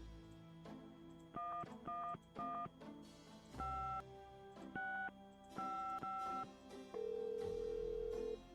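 Touch-tone telephone keypad dialing a number in the Gabriel Knight: Sins of the Fathers adventure game: a run of short, evenly paced DTMF beeps of varying pitch, ending in one longer held tone, clean and alone with no talk.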